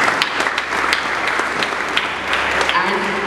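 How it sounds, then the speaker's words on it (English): A model UN committee audience gives loud, close applause with sharp individual claps in a busy rhythm, and voices murmur underneath. "So he deserves a huge round of applause for him."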